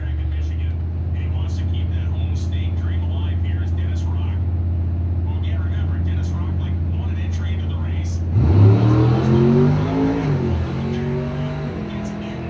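A 1970 Dodge Challenger and a 1985 S10 launch off the line at a drag race, round four of the 2020 God Bless America Race: a steady rumbling idle, then a loud surge of engine revs climbing through the gears.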